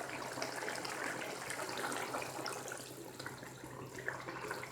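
Cooked garlic-ginger water pours into a karahi for Peshawari charsi karahi, a steady close liquid rush with splashing that runs without a break and with no talking.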